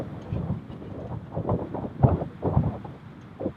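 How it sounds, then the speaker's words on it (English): Cold, gusty wind buffets the microphone outdoors at a rifle range in low, rumbling bursts that rise and fall irregularly, with no voices. "It is windy and cold."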